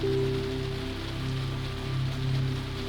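Rain falls steadily against a 1920s luxury sleeper train rolling through the night, a soft continuous patter over a low rhythmic rumble of the carriage, with no talking.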